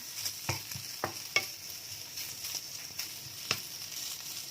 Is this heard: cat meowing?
no